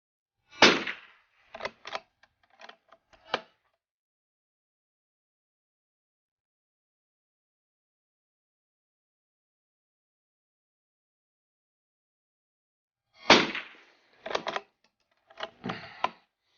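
Early pre-A Winchester Model 52 slow-lock rifle firing at an outdoor range on a snowy day: a few sharp, loud cracks in a tight cluster, a long quiet gap, then another quick group of shots, with no talking.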